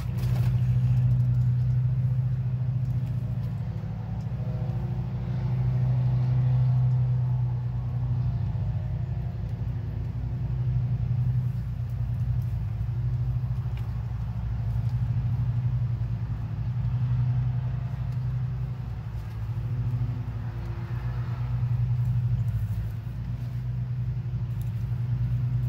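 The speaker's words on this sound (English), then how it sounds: "We got a tractor on one end." A tractor engine runs outdoors in a garden setting, a steady low rumbling idle holding at a constant level throughout with no talking over it.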